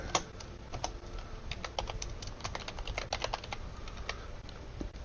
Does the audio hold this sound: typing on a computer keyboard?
yes